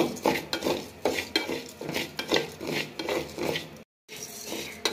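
Salted, water-soaked rice stirred nonstop in a hot kadai, a steady rasping scrape and rustle of grains against metal repeating in quick strokes, close and fairly loud, with one brief dropout near the end.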